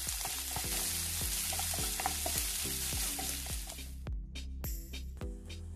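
Chopped ginger, garlic and green chilies for masala dosa filling sauté in a pan with a bright, steady sizzle, punctuated by regular spatula taps against the pan in an even rhythm, close and alone.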